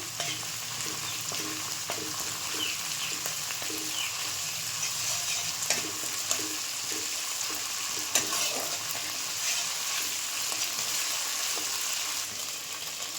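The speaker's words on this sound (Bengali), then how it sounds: "মশলাটাকে একটু নাড়াচাড়া করতে হবে ভালো করে" Ginger paste masala frying in a pan for a duck curry, a steady moderate sizzle with regular soft scraping strokes of a stirring spoon throughout.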